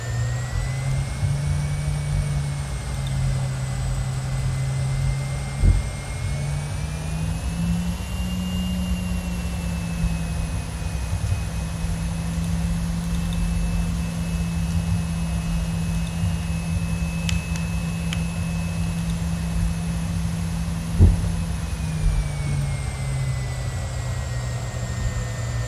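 A BD-5 jet aircraft's small jet engine roars steadily through takeoff, a loud continuous whine and rumble heard from inside the cockpit with no one talking.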